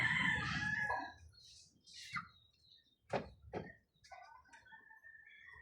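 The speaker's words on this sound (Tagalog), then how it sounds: "Ayaw niya yung manok." A rooster crows loudly up close, followed by a few softer clucks and short calls.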